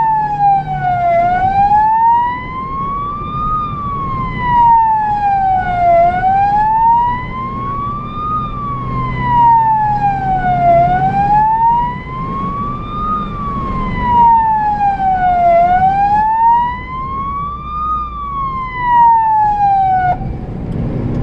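An emergency vehicle's siren wails loud and close, rising and falling in a slow, steady cycle throughout, with engine and road rumble underneath during a response run.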